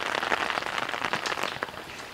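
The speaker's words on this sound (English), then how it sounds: "Looks like it's starting to rain hard" Heavy rain pours down outdoors, a dense continuous patter of drops hitting surfaces close by, steady and fairly loud with no voices.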